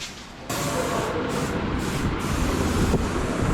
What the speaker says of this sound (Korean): 뭘 이렇게 뿌려? For mosquito? Air freshener.